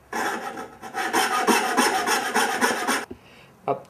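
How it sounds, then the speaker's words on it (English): A coping saw rasps through wood while cutting dovetails, a loud run of quick, even back-and-forth strokes for about three seconds, then it stops with a couple of light knocks. "Notice how I cut using the coping saw the insides."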